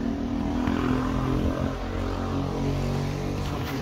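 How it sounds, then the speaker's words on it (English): A motorcycle passes along a residential street, its engine a steady, fairly loud droning hum with tonal harmonics that holds across the whole stretch without people talking. "I see that motorcycle."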